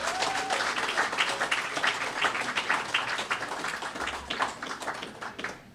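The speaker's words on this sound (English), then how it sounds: "So give yourselves a round of applause." Applause from the audience at a drug abuse prevention fundraiser and graduation gala, honoring the graduates; scattered, moderately loud clapping from a large room that holds steady and thins toward the end.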